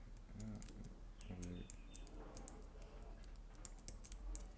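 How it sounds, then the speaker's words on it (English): Keys on a computer keyboard are pressed one at a time, sounding as sharp, irregular, faint clicks over a low steady hum, with a brief murmur of voice. "If I use the arrow, left and right arrow keys on my keyboard"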